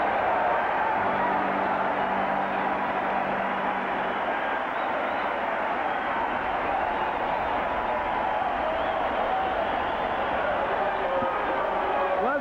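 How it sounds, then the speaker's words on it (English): Crowd at a 1984 Expos–Cubs baseball game in Chicago giving a standing ovation after a home run, a dense continuous roar of cheering that stays loud and steady throughout. "Listen to the crowd. A standing ovation."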